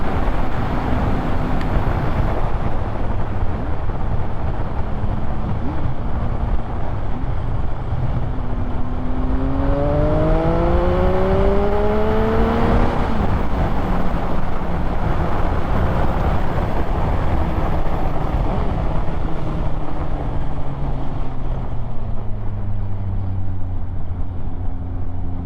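A 2019 Triumph Speed Triple RS on a road test ride accelerates hard, its engine note climbing through a couple of gear changes over steady wind roar, loud and close from the rider's position.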